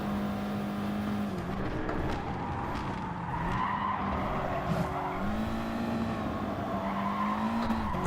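Tyres skid and squeal under heavy braking in the GT Sport racing game at Dragon Trail Seaside, a sustained screech with shifting pitch over a steady engine drone, loud and continuous with no talk.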